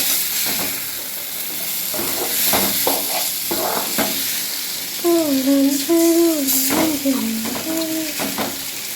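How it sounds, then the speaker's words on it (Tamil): Cooked pasta being tossed and stirred with its other ingredients in a hot pan: a soft sizzle with scraping strokes, and a brief wavering tonal sound partway through. "பாஸ்தாவை எடுத்து போட்டு எல்லாத்தையும் போட்டு அப்படி ஒரு கிண்டு இப்படி ஒரு கிண்டு"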